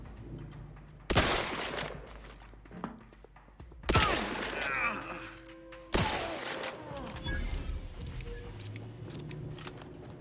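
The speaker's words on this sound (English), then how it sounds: "I can't believe I missed that many shots." Gunfire rings out in the video game Outer Worlds 2: three sharp, loud blasts a few seconds apart, each trailing into ringing echoes and clattering action sounds.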